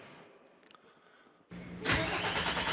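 A 2025 Mack Pioneer truck's engine starts up: brief clicks and a whine from the starter, then a sudden loud catch into a steady, rumbling idle, heard close with no talking.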